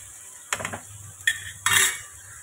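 Small mourola fish tossed into a hot kadai for macher chorchori: three short bursts of clattering stirring and scraping, with a brief sizzle after each, against a faint low hum and otherwise quiet gaps.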